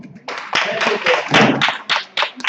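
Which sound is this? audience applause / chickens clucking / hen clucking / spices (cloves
audience applause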